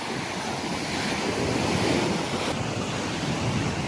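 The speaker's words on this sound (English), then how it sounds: "We got some waves today after that storm." Ocean surf breaking on a Gulf beach after a storm, a steady, dense wash of waves with gusting wind buffeting the microphone throughout, no voices.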